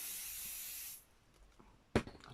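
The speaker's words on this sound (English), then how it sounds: "so another quick squirt of spray." A brief hiss from an aerosol spray can used while making a journal cover, a steady spray of about one second, followed by a faint tap and a short bump.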